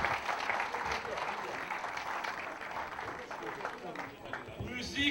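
An audience at a celebration event applauds with sustained clapping and crowd noise, moderately distant, while a voice speaks over it through most of the stretch.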